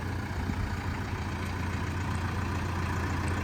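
A BASAK 2110S tractor idles with a steady, low diesel rumble that holds an even level throughout, with no voices and no change in engine speed.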